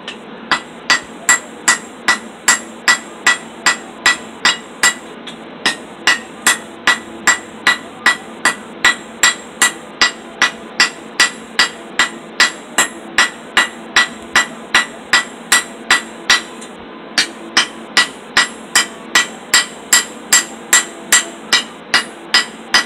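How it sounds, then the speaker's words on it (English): A ball peen hammer strikes hot metal at a forge again and again in a steady, even rhythm, each blow sharp and ringing, close up and alone for over twenty seconds. "Let's use the ball peen hammer to see if it did it fast."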